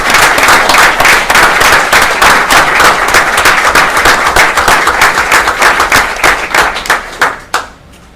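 Loud, sustained applause from a council meeting audience honoring veterans, dense hand clapping at a steady level that tapers off in the final second.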